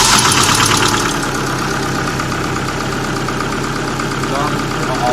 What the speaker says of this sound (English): First test of the new alternator.